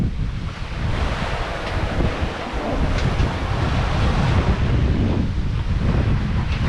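Ocean waves striking a sailboat from the side during an Atlantic crossing, with strong wind buffeting the microphone, a continuous rough rush of surf and gusts, loud and close, without speech.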